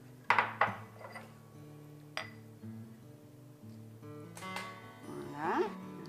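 Frittata mix of egg, kale and cheese spooned into small individual oven dishes, with a few sharp clinks and taps of spoon against ceramic, then quieter scraping and clatter, no talk.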